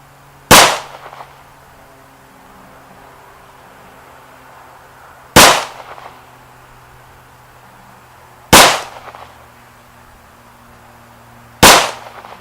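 Four single shots from an H&K P30 pistol at a shooting range, loud and sharp, spaced about three seconds apart with quiet between them.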